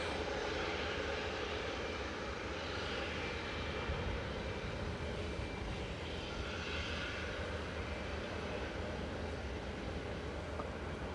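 An Airbus A320 Classic in old Scandinavian livery touches down at Manchester Airport, a steady broad engine roar holding at moderate distance throughout with no voices over it.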